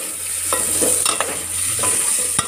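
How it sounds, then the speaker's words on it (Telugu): Drumstick (moringa) pieces fry in a pan with a soft, close sizzle while a spoon stirs and scrapes them back and forth in quick strokes. "ములక్కాయలు ఫ్రైలో వేసుకొని అటు ఇటు కలపాలి"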